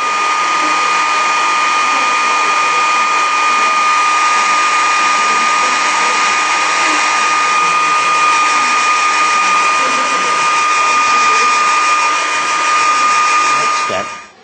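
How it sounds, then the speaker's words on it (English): A hairdryer blows steadily and loudly at close range for about fourteen seconds, drying masking fluid on a watercolour painting, with a constant whine above its broad airflow roar before it cuts off at the end. "I'm going to take this over to the hairdryer."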